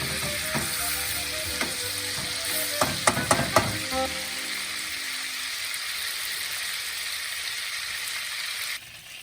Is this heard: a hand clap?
no